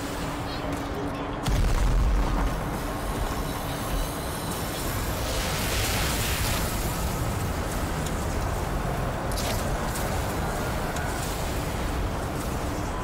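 Rocket explosions from the video game Black Mesa: a sharp blast near the start, then a dense, sustained roar of booming, rumbling combat noise that stays loud throughout, with no clear breaks.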